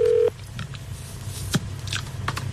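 A single steady telephone dialing tone at the start, cut off sharply after a moment, followed by faint room noise and a few soft clicks and rustles on a French radio show.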